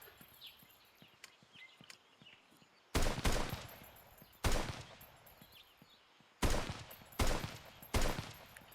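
Gunshots from a physics-driven VR shooter game ring out as several loud sharp bursts in two clusters. Quieter faint taps and handling clicks fill the gaps between them.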